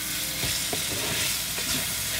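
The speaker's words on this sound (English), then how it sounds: "So let's add in our meat and then give it a quick mix" Meat added to a hot pan for cashew chicken sizzles loudly and steadily, with a few stirring scrapes through the frying and no talk.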